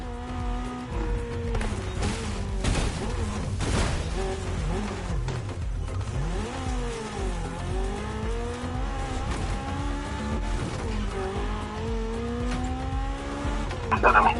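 Race car engines in a touge mountain-pass racing video game, a loud continuous engine drone with shifting revs and pitch sweeps, occasional tire noise, steady throughout with no talking.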